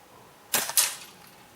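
Sandwell Field Sport Imp air rifle firing outdoors, two quick sharp cracks close together, fairly loud and near, fading into quiet background air.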